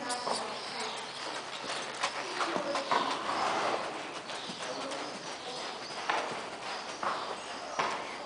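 A dun mare with a star walks, hooves clip-clopping in a steady soft rhythm over continuous outdoor background noise, with pigeons cooing faintly nearby.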